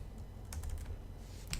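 A computer keyboard is typed on in a short run of quick clustered keystrokes over a low background rumble, close and fairly quiet.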